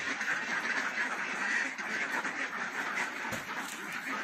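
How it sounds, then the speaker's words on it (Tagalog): Many farm ducks quack continuously in a dense, overlapping chorus, loud and close throughout with no talking. "daming itik. Sobra."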